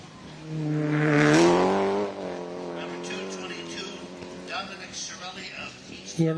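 A 2007 Volkswagen GTI races up a hillclimb course, its engine revving hard and rising in pitch before easing into a steady drone, heard under continuous commentary.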